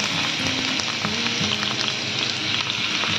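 Grated onion frying in a pan, a steady, even sizzle of hot oil running throughout with a faint tonal hum beneath and no talking.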